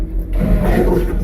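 Marine toilet aboard a 2020 Hewes 2500 Alaskan boat flushing after a button press, a steady low pumping whoosh close by that runs continuously without pause.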